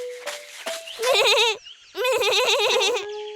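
A cartoon goat bleats in two loud, wavering, drawn-out cries after a couple of short higher calls, the second bleat fuller and longer than the first, with no talking.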